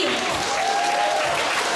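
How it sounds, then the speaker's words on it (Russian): Applause fills a hall at a school award ceremony, a steady, dense clapping from an audience that continues throughout while a voice talks over it. "И под громкие аплодисменты на сцену приглашаются учащиеся 11 класса Поташов Максим,"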